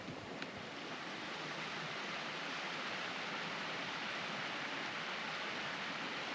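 Waterfalls in Wales swollen by recent rainfall roar as a steady, dense broadband rush, close and continuous with no voices over it.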